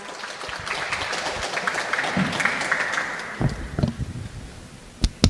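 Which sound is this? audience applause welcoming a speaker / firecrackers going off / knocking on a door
audience applause welcoming a speaker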